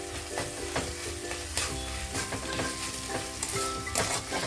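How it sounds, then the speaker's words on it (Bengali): Green chillies and tomatoes frying in a pan for chicken ghugni, stirred with a utensil: a busy sizzle broken by repeated scraping strokes and clinks against the pan, close and fairly loud. "দিয়ে একটু নাড়াচাড়া করব টমেটোটা সফট হওয়া পর্যন্ত"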